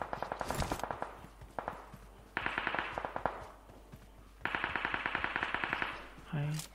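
Rapid automatic gunfire in a video game comes in three long bursts of close, crackling shots separated by brief lulls, ending with a short tonal game sound.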